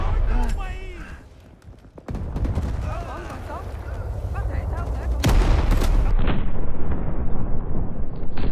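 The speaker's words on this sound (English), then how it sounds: "Oh, watch out, grenade!" Grenade blast in Rising Storm 2, a loud sharp explosion that cuts in after a brief lull, followed by a rumbling tail under continuing gunfire and shouted voices.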